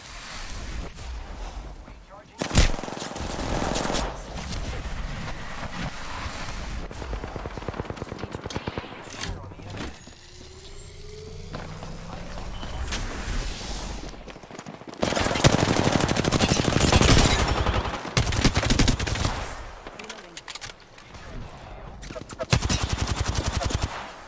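Bursts of automatic gunfire crackle in Apex Legends, loud rapid volleys coming in several clusters with pauses between them, mixed with game effects while people talk over the action.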